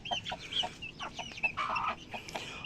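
Several chickens cluck and squawk in short, quick bursts close by, faint overall, with no talking.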